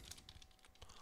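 Quick, quiet keystrokes on a computer keyboard, a short burst of close typing with no voices.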